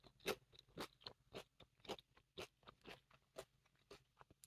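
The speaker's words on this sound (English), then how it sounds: "But I wanted you to hear the crunch." Raw beets, celery, apples and cabbage are chewed close up, giving loud wet crunches in a steady rhythm of about two bites per second with no talking.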